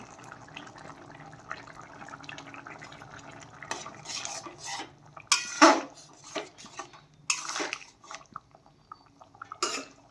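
Broccoli and potato curry finished with garam masala and transferred to a bowl, heard as clinks and scrapes of a metal spoon against the pot and sloshes of thick gravy, louder in bursts after a quieter start.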